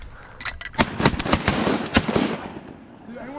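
Shotgun blasts fired at incoming ducks while hunting on a small creek, a rapid burst of several sharp, loud reports in close succession, fading to quiet afterward.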